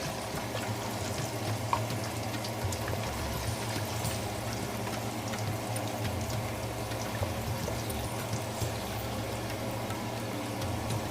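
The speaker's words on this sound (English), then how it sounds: "Here I'll go ahead to start frying my paste, tomato paste." Continuous sizzling and crackling of tomato paste frying in hot oil previously used to fry turkey, steady and close with no voices.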